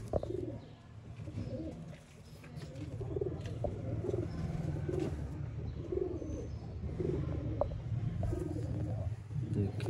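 Sialkoti pigeons coo softly in low repeated pulses, a steady murmur of several birds close by with no talk over it.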